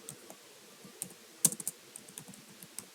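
Quiet, steady typing of program code on a computer keyboard, with soft key clicks, an irregular rhythm and one sharper tap near the middle.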